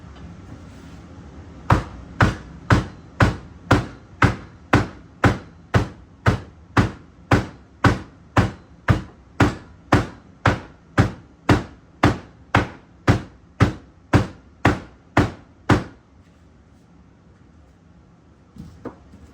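Mallet blows ramming a bulkhead down into a 1 pound black powder rocket tube: about two dozen sharp, evenly spaced wooden thuds at a steady fast rhythm, close and loud, then stopping.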